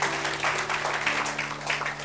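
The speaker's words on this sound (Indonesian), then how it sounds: "Tepuk tangan dulu buat Tuhan ya sama-sama." A church congregation applauds together, a dense, even wash of many hands clapping at moderate distance that holds steady throughout, with a low hum running underneath.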